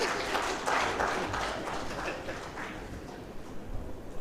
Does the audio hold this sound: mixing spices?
no